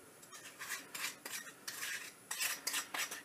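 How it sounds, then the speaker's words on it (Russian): A utensil works through cake batter mixed with mayonnaise in a bowl, a soft, quiet run of repeated scraping and swishing strokes, close up with no talking. "Вот так я все сейчас смешаю, некоторое время помешаю."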